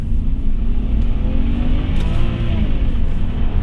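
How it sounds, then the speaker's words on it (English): An old BMW car pulls away from a stop in first gear, a loud close engine rumble with a rising drone and road noise that persists steadily throughout. "now I can use the same shifter to start in first here, and away we go"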